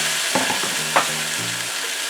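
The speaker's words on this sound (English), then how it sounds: "Now I'll be adding 3 cups of baking potato chopped." Chopped baking potatoes tumble into a sizzling pot for Jamaican-style curried potatoes and squash, a few soft thuds and clatters over a steady close frying hiss.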